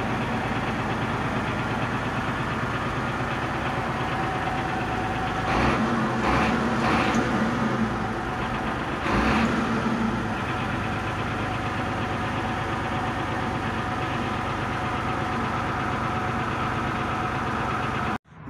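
An MTZ 1523 tractor's diesel engine idles evenly and close by, a steady low throbbing rumble that runs throughout, with a few brief louder bumps partway through before cutting off at the end.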